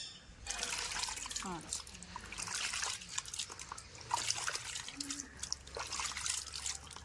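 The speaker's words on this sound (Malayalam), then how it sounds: "അതിനുവേണ്ടിയാണ് മഞ്ഞപ്പൊടിയിൽ ഉപ്പ് ഇട്ട് നമ്മൾ വാഷ് ചെയ്തെടുക്കുന്നത്" Fruit being washed in water with turmeric powder and salt, a steady close trickle and splash of water with soft sloshing and handling noises, a voice speaking briefly in the background.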